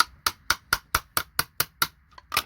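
A hammer drives a chisel through IC chips being broken up for scrap, striking about ten sharp, evenly spaced metallic blows in a quick steady rhythm, close and clear, with a brief softer pause before the final hit.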